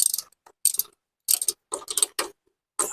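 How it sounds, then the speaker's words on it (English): A ratcheting wrench with a socket loosens a bolt on a first-generation Dodge Neon during air-conditioning system replacement, giving short, close, crisp bursts of rapid clicking in irregular groups with brief pauses between strokes. "I have a ratcheting wrench, but the offset with the socket, you kind of need it."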